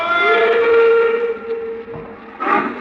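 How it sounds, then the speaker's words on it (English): A steam train whistle blows long and loud in a radio drama as the train pulls away, a sustained hooting tone that fades, then a brief hiss of steam near the end. "I stood there on the embankment as the train pulled away."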